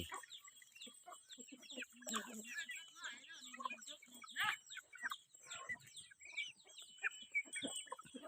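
Chickens in a Thai village yard cluck and chatter in overlapping bursts, with sharper calls standing out, over steady background birdsong and other outdoor noise.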